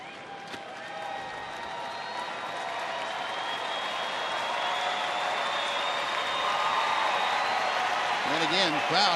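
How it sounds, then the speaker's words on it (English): A baseball stadium crowd at a Texas Rangers home game against Oakland cheers and applauds in a broad sustained roar that swells toward the end, while a broadcaster's voice runs faintly beneath it. "crowd getting behind Nick Tepish"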